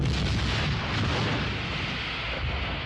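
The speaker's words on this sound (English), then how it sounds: "3 escape pods are jettisoned before the ship explodes." In the 1978 science fiction film Starcrash, a spaceship explodes after three escape pods are jettisoned, producing a loud, sustained, rumbling blast with heavy low-end roar that fills the whole moment without speech.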